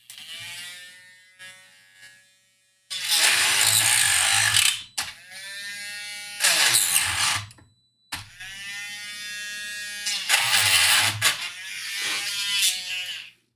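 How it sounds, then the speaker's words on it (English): A small Dremel rotary tool whines in bursts, its pitch sliding down as the bit is stopped against the work, with quieter ratcheting gaps between runs and no talk. "this little Dremel, it whines when it gets stopped"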